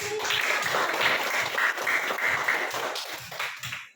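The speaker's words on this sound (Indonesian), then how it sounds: "Ya terima kasih, tepuk tangan" A classroom of people clapping, steady applause that holds for a few seconds and then tapers off.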